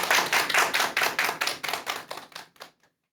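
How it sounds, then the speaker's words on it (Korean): Lecture-hall audience applause for a Buddhist TV relay lecture, a dense burst of hand claps that thins into a few scattered claps and stops after under three seconds. "그럼 큰 박수로 청해 듣도록 하겠습니다."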